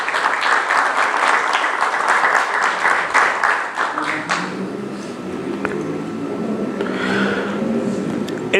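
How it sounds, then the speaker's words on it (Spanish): Congregation at a Spanish-language Bible study applauds loudly and briskly for about four seconds, then the clapping fades into quieter room murmur and shuffling. "¿Cuántos aplauden por esto?"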